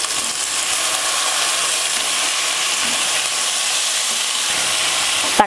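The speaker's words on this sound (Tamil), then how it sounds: "தக்காளி வந்து வதங்கிருச்சு" Tomatoes and onions sauté in oil for a spicy roadside-style chutney, giving a loud, even, continuous sizzle close up with no voices, ending in a small clink.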